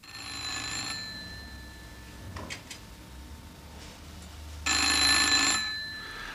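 An old telephone bell rings in two bursts, a brief ring near the start and a louder, longer one later, standing out clearly over a quiet room.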